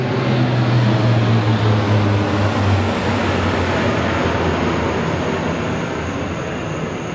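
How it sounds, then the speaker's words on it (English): Two large C-130 military troop-carrier aircraft pass overhead at night, a steady loud droning rumble with low propeller tones that holds throughout and fades only slightly toward the end. "That's our C-130 troop carriers. They come over here every night."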